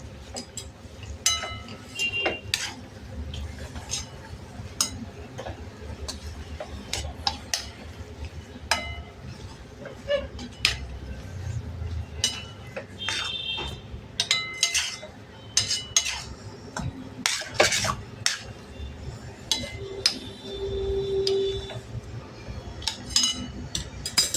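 Sheera being stirred in a pan with fried cashews, almonds and saffron for a Guru Purnima prasad: a spoon scrapes and clinks steadily against the metal pan for the whole stretch, close and moderately loud, with no talking.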